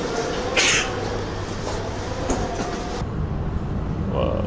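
Rumbling train ride on rails inside a Paris train carriage, a steady low rolling drone with brief rattles and squeals, close and continuous.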